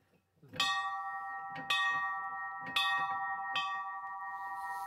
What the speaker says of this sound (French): pourriez-vous sonner à la cloche, s'il vous plaît?